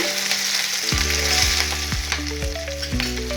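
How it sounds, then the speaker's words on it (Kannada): Capsicum frying in oil in a pan for a Karnataka-style dish, a steady sizzle running throughout with rhythmic low knocks and scrapes of stirring, loud and close. "ಈಗ ಹೊಟ್ಟೆ ಮೆಣಸಿನ್ಕಾಯಿ ಎಲ್ಲ ಚೆನ್ನಾಗಿ ಫ್ರೈ ಆಗಿದೆ ನೋಡಿ ಚೆನ್ನಾಗಿ ಎಣ್ಣೆಯಲ್ಲಿ ಫ್ರೈ ಆಗಿದೆ"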